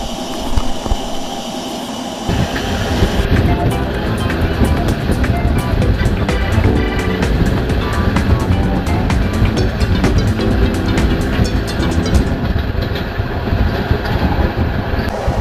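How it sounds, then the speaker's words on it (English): A steam or diesel-hauled train runs on a rail trip in the Tatra region, producing a loud, continuous rumbling clatter of wheels and carriages that swells after a quieter opening and carries on steadily. "our train with Green Anton in charge awaited us"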